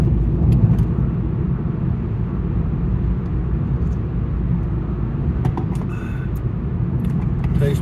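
A car on a Sunday morning drive in New Mexico: a steady low engine and road rumble from inside the cabin, constant throughout with small clicks and rattles near the end.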